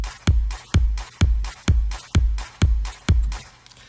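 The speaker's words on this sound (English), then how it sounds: "And then we added a clap in between." A dance-track clap layered between stacked kick drums: seven punchy, evenly spaced kick thumps with sharp, noisy clap hits filling the gaps between them, loud and close, with no voices.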